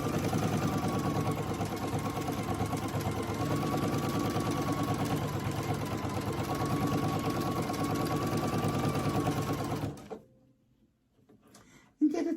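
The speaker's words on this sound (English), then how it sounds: "it wants me to use a 1/2-inch sewing stitch, reverse to just sort of lock that stitch in" An embroidery sewing machine runs a steady, close mechanical whir of rapid stitching for about ten seconds, reversing to lock the stitch, then stops abruptly into near silence with a few small clicks.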